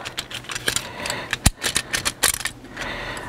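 Seat belt anchor bolts being unscrewed inside a 2012 Subaru Forester, with a quick run of close, sharp ratchet clicks and metallic ticks plus one brief loud knock midway, and no speech.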